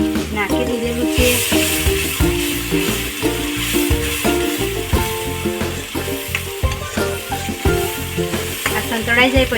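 Masala with garlic and green chilies sautés in a pan before okra is added. The close sizzle comes with frequent stirring scrapes under a prominent tonal, rhythmic backing sound.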